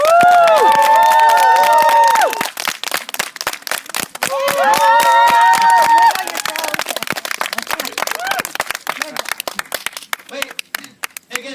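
A crowd at a renaissance fair applauds and cheers a handstand stunt. Dense clapping swells in bursts, with shrill whistles and tonal calls riding over it early, then settles into steadier scattered applause.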